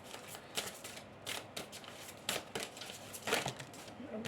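A deck of cards is shuffled by hand for a card reading, giving several quick riffling bursts close up with short pauses between them.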